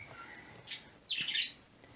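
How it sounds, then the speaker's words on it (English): A bird gives a short chirp and then a louder, harsher squawking burst, both close and clear over quiet background, with no talking. "That crazy bird."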